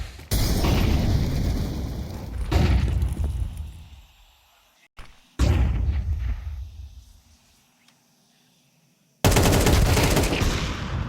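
Gunfire during a professional Counter-Strike match between Astralis and ENCE, with loud, dense bursts of rapid shots that cut off abruptly into near silence and then start again several times.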